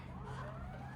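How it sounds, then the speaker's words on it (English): An emergency vehicle siren wails past in a rising and falling tone, fairly faint and distant, over a steady low rumble of traffic. No one speaks. "Oh Lord, sirens coming for me."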